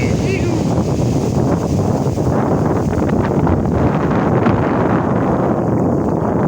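Strong, steady wind buffets the microphone at Lampuuk beach in Aceh, a continuous loud roar lasting throughout with no break.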